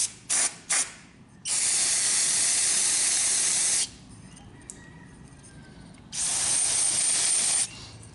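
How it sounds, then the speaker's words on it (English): Spray rinses out a Briggs & Stratton carburetor float bowl during a DIY repair: two long, close, steady hissing bursts separated by a quieter pause with a few faint clicks. "Let's just rinse the bowl out real good."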